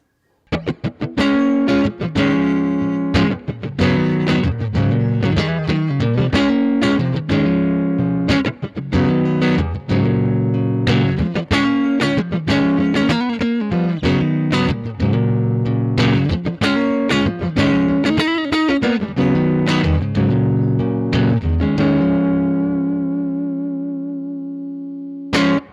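An electric guitar is played through a Fender Mustang GTX amp on the VibraKing preset, giving a loud, rhythmic run of strummed and picked chords with wobbling vibrato and reverb, ending on a long ringing chord that fades out.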